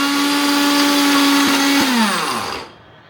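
A kitchen blender whirs loud and close as it mixes dark chocolate, cocoa powder, honey and milk, holding a steady high motor whine that winds down and stops near the end.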